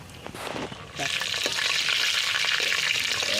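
Green chillies dropped into hot oil burst into a loud, steady frying sizzle after a brief quieter start with some background voices, the crackle continuing close and even.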